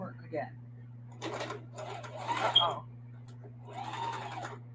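A sewing machine back stitches on a camo tote bag in short mechanical bursts over a steady low electrical hum, close by, with a voice speaking between bursts.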